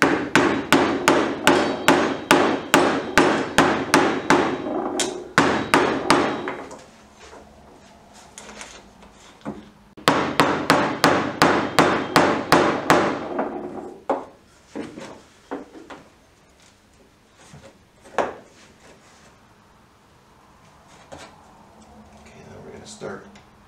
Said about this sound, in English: we're most likely going to use a hammer in a block of wood